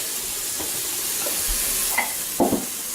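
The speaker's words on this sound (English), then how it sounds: "Which we're sauteing mushrooms first." Mushrooms sautéing in an Instant Pot, a steady soft sizzle and hiss with a few scraping stirs and clinks of a utensil against the pot, close and unaccompanied by talk.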